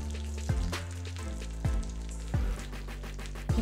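Mustard seeds, dried chillies and curry leaves spit and crackle in hot oil while tempering for radish chutney, with irregular pops over a low steady hum from the stove.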